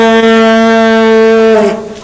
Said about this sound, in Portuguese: Tem corneta que é forte, assim, ó.